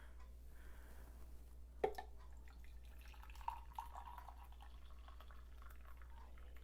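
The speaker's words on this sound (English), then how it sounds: "I'm going to pour me a cup of tea." Tea poured into a cup, a quiet soft trickle of liquid with a light clink near the start, faint and close in a calm kitchen.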